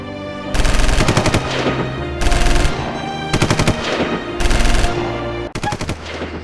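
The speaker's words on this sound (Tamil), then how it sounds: "இப்போ எங்க பார்த்தாலும் துப்பாக்கி சவுண்டா கேட்குது" Loud, close machine gun fire comes in five rapid bursts separated by short pauses, each a dense rattle of rounds, with no voices.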